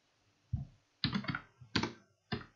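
Keystrokes on a computer keyboard entering a new product title in a WooCommerce editor, a few short bursts of quick clicks separated by pauses, close and clear.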